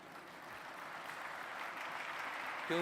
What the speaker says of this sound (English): A huge round of applause for Honorable King Hussain